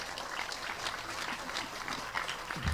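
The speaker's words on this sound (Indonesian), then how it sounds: "Tepuk tangan untuk Maung Hercules." Audience applause at a talk-show style event honoring a reformed Tanah Abang gangster, a dense steady patter of many hands clapping throughout, moderately loud and continuous.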